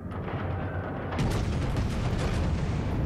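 Warship guns fire in a World of Warships naval battle, a loud, dense roar of heavy booms that thickens and grows brighter partway through and rumbles on without pause.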